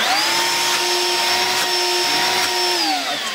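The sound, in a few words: Ryobi P770 One+ cordless wet/dry shop vacuum running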